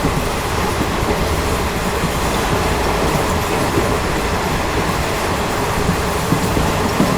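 A train runs through the Thar Desert past Jetha Chandan railway station, heard from inside a general coach as a loud, unbroken rumble of wheels on rails with faint clatter and no talk.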